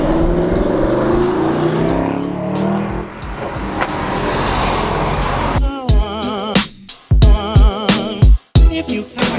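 A car driving past after a rally, engine rumbling steadily and close, then giving way to sharp choppy bursts of revving and mechanical noise.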